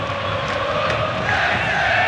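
A football crowd cheers from the stands of the Maracanã during a Fluminense night match, a dense, steady roar of many voices with whoops rising toward the end, loud and continuous without a break.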